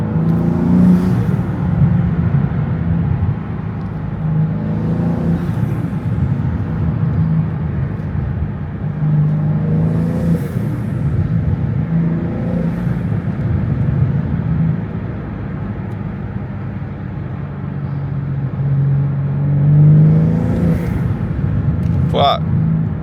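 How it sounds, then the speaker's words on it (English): A turbocharged car engine idles and revs with a steady deep rumble and faint recurring whooshing rises, close by and continuous, while people talk over it. "Y'all boys hear them turbos"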